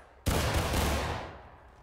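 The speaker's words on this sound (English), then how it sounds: "That was an amazing volley." A ragged rifle volley from a battle line in War of Rights erupts at once in a loud, dense crack of many shots, then rolls off into a long fading rumble.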